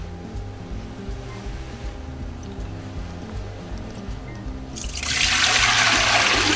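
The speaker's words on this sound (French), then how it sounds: "Donc on va mettre l'eau." Water poured into a Trittico Executive Evo cooking machine while making choux pastry, a broad splashing rush that starts partway through and continues steadily over a constant machine hum.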